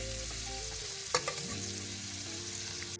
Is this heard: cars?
no